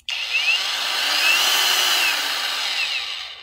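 Wakyme 20 volt cordless angle grinder spinning up without a disc, a loud close whine that rises slowly in pitch and holds steady for a few seconds.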